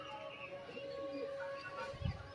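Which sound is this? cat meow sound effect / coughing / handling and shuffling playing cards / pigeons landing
pigeons landing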